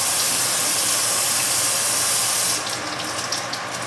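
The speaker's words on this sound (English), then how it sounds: "Kind of rinse all that starch from around my pot." Running tap water rinsing starchy residue off an Instant Pot inner pot, a loud, steady rushing hiss that suddenly drops to lighter splashing and dripping near the end.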